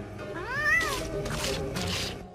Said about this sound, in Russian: Это у Микки кошка-мутант из мороженого, йоу